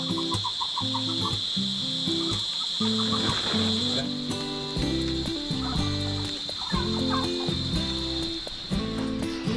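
Geese honking loudly and repeatedly close by, a busy flock calling over a constant high electrical whine.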